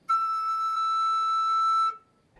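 A flute head joint blown across the lip plate hole with faster air sounds one clear, higher, steady whistle-like tone, sustained for nearly two seconds, then it stops.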